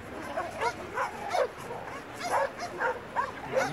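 Several dogs of different sizes, with a puppy among them, give a mix of whimpers, yips and soft barks in a busy, irregular stream, fairly close but moderate in volume.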